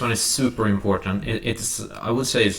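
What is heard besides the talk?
No everyday noises stand out.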